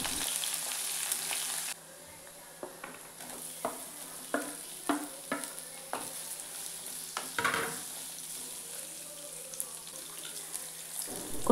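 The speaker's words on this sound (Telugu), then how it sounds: "ఇప్పుడు దీంట్లో జింజర్, గార్లిక్, ఆనియన్స్ వేసి బాగా ఫ్రై చేసుకోవాలి." Ginger, garlic and onions frying in oil sizzle close up under repeated scraping and stirring strokes. The sizzle breaks briefly after a loud start and then carries on with rhythmic clatter.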